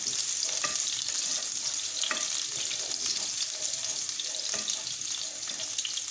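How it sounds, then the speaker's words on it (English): Diced onion sizzles and crackles in a hot pan, a continuous bright frying hiss with repeated scraping stirs cutting through, close and fairly loud. "Add the diced onion."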